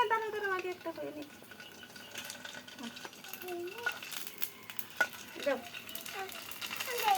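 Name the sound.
oil spattering while frying fuchka puris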